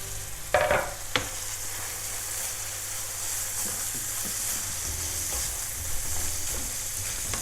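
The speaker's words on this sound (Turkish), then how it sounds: "hemen daha suyunu çok fazla çektirmeden soğanlarımı kıymama salıyorum" Steady sizzling of onions frying with minced meat for homemade içli köfte fills the clip, with a few clinks of a utensil stirring the pan early on.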